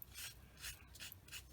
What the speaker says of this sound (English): And then I'll take my sanding sponge,